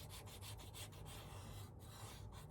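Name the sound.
sanding with a sanding block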